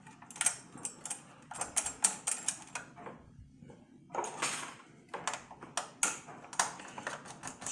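Compressed plate screws being driven into a PlayStation 4 CUH-1215A during teardown, a series of close, sharp clicking and ratcheting bursts in uneven rhythm with short pauses between turns.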